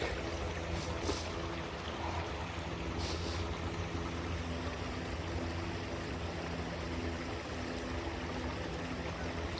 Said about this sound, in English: There's a creek.